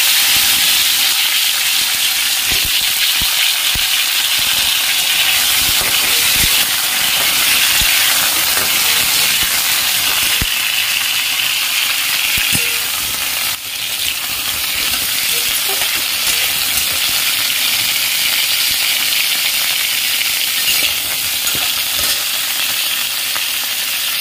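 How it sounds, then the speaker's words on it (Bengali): Raw mangoes dropped into hot oil in a pan with five-spice tempering, a loud, dense and continuous hiss of frying close by, with faint clinks now and then and no talking. "কাঁচা আমগুলো তেলে দিয়ে দেব।"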